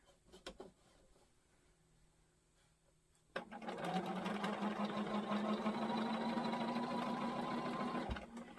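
A sewing machine stitches a heavy quilt, starting after a few seconds of quiet handling noises and then running as a steady, close whirring drone for about five seconds before stopping.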